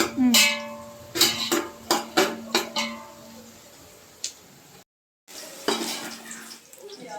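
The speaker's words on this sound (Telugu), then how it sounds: "వేయించుకోవాలి ఉల్లిగడ్డ గోల్డెన్ బ్రౌన్ వేసుకుంటాం." Three large onions being fried golden brown in a pan with cloves, cinnamon and cardamom for Rayalaseema chicken curry, a metal spoon clanking rhythmically against the pan over a soft sizzle.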